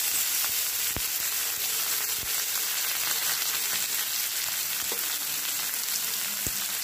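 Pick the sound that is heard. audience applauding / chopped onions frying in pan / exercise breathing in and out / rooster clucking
chopped onions frying in pan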